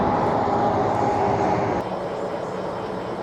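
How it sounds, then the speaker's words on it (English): Highway traffic in Wyoming rushes past from the shoulder as a constant, loud broadband roar. It eases a little partway through and never breaks into separate vehicles. "Looks like there's more westbound traffic today than eastbound."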